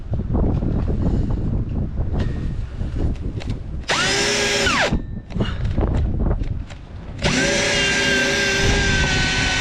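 A power drill cuts a 2-inch hole in a boat, with two loud sustained whining bursts separated by a short pause, layered over steady wind buffeting the microphone.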